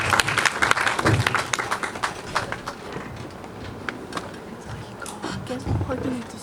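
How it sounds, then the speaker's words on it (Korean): Audience at a university talk concert at Hongik University breaking into applause that is loud at first, then thins and fades, with some murmuring and stray sounds toward the end. "여러분, 우리 정홍은님을 큰 박수로 만나보도록 하겠습니다"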